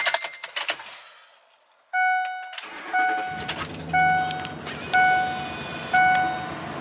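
A Ford F150 pickup with an ABS wheel speed sensor fault cranks to life after a few scuffing bumps, and a warning chime repeats about once a second over the low engine hum.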